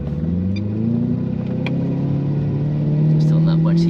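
A 1500-horsepower twin-turbo C8 Corvette pulls hard from inside the car, its engine note climbing steadily in a loud, continuous rumble for the whole stretch.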